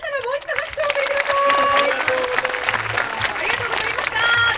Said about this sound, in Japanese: 皆様もう一度拍手を送って